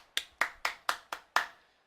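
Six sharp, evenly spaced hand claps, close and dry, a slow sarcastic round of applause from one person with no other sound.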